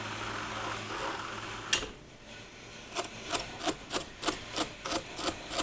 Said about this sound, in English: that's my husband out working on his lathe